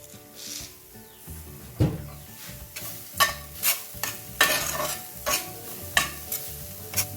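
Whole peppercorns are stirred with a spatula in a hot cast iron pan, giving repeated scraping strokes and a light sizzle at an uneven rhythm, close and fairly quiet.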